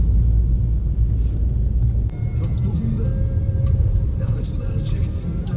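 A car drives along a mountain road in Canada, giving a steady, close rumble of engine and tyre noise inside the cabin, with a brief knock partway through.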